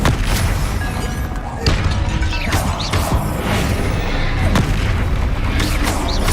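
Explosive spell blasts from the Hogwarts Legacy video game, a string of loud booming impacts and crashes over a dense, continuous battle soundscape, close and forceful.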